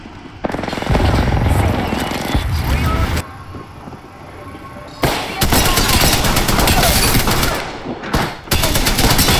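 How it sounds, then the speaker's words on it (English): Rapid sustained bursts of Spitfire light machine gun fire in the Apex Legends battle royale game, loud and close, with a short lull in the middle before the shooting resumes in long, steady strings. "Opening fire on the enemy."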